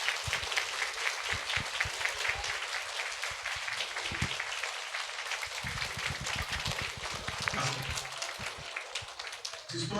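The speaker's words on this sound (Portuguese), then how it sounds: "Vamos receber com bastante carinho, com bastante aplausos, o senhor Antônio" An audience at a school event, EEF Prof. Darcy Ribeiro, applauds guest children's author Antônio Vignali with steady, dense clapping that holds for the whole stretch, loud and continuous.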